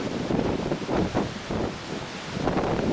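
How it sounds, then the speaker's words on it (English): Hurricane Charley's eyewall roars in violent gusts, surging wind buffeting the microphone in rough pulses with no let-up and no voices. "Wind's gusting probably over 120"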